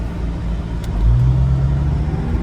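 A third-generation Toyota RAV4 with a four-speed automatic accelerates hard with the pedal floored, giving a loud, steady engine roar and road rumble that swells slightly midway.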